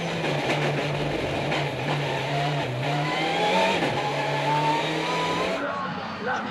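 Rallycross race cars on the final lap at Dreux, a loud, continuous engine roar with a steady rising drone, heard up close and sustained throughout under a commentator's voice.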